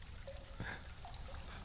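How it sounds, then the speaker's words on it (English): Steady trickling, pouring water from a waterfall in the video game Wuthering Waves, a continuous close, moderately loud wash with a few faint tonal blips on top. "Oh my god, the sound of the waterfall here is so good. Like water ASMR."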